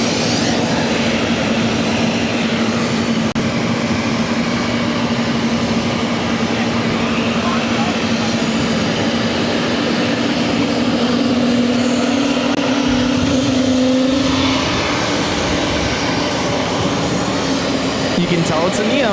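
An Airbus A320neo jet passes in a loud, sustained engine roar with a steady low whine that shifts partway through, close and continuous, with voices faintly present beneath.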